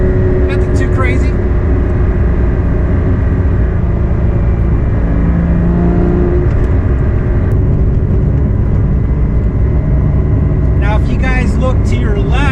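A Porsche GT4 drives along a scenic road near Colorado National Monument, its engine a loud, steady low rumble heard from inside the cabin, with someone talking throughout.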